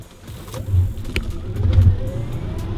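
A Tesla Model S electric car pulls away from a standstill and gains speed with a low, smooth hum and rising road noise, close by and fairly loud, no talking.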